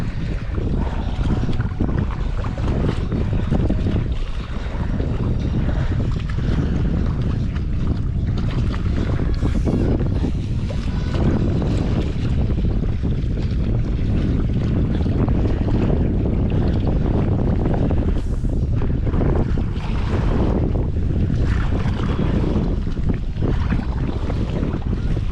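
Steady, loud wind buffets the microphone without pause while a stand-up paddleboard crosses open water at a charity swim event, roaring and gusting throughout with no clear voice above it.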